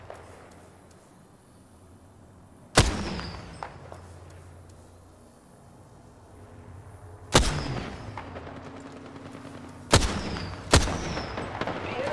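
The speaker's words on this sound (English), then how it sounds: "The enemies are shooting at me" Enemy gunfire in Apex Legends arrives as a few isolated, sharp cracks spaced seconds apart, the loudest pair near the end, each standing out over a low, steady background hum with no talking.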